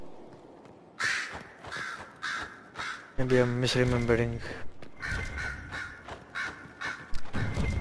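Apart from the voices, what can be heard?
crows cawing in the video game Dragon Age Inquisition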